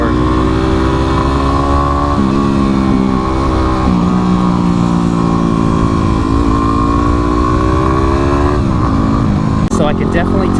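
Kawasaki KLX351 big-bore dual-sport motorcycle pulling hard off the line, a loud, steady engine drone climbing in pitch through the gears with brief dips at each shift, close and continuous throughout.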